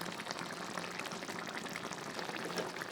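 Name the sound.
sardine curry simmering to reduce water on medium flame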